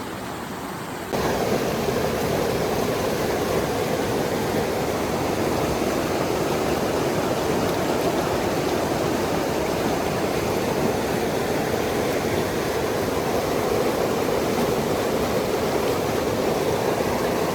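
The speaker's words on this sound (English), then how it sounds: "Came from up there, a little waterfall here, and it comes and it just keeps going down" A small waterfall spills down beside a hiking trail, a steady, dense rush of water that starts abruptly and holds loud and close without a break, with no voices over it.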